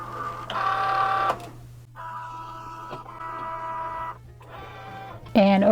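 Cricut Joy cutting machine loading a mat for Valentine cards, giving steady whirring motor bursts with short pauses between them and a brief higher chirp at the end, over a constant low hum.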